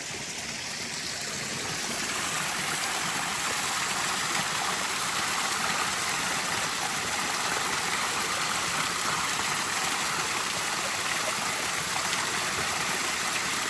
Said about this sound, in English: now we've got a little waterfall going on, making its way into the tube